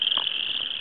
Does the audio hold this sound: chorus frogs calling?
yes